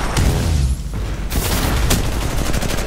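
Rapid gunfire from a weapon in the video game Titanfall 2, loud dense bursts with explosive booms, continuous and close, pausing briefly before resuming.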